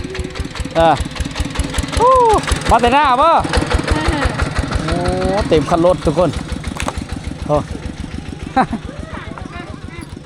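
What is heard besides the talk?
farm tractor engine running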